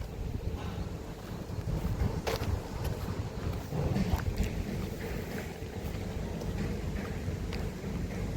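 Gusty evening wind on an open rock outcrop buffets the microphone in a constant low rumble, loud and unbroken throughout, with no voices.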